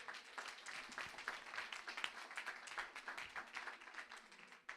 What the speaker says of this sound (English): can you please all give yourself a round of applause?